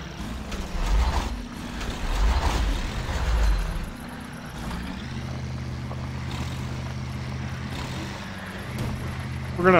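Engine of a UAZ off-road vehicle in the SpinTires game on a volcano map, a steady low drone with bursts of revving at the start, then an even hum that swells louder at the very end; a voice talks over it.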